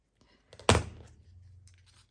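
Scissors give a single close, sharp snip as they trim the edge off a journal card, followed by a faint rustle.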